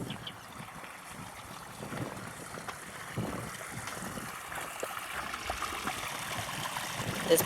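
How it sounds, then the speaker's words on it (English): A babbling brook in a park in Japan, running as a steady, quiet trickle and gurgle of water close by, with faint breezy noise and no voices. "This brook be babbling."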